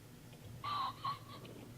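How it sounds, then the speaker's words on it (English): A ringneck pheasant crows in open country, one short, harsh two-part call heard at a distance over low background noise. "That's the crow of the rugged ringneck pheasant."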